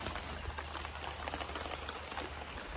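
Rain drips and patters on a polythene sheet over a tree house shelter, a soft, even, continuous pattering heard faintly and alone.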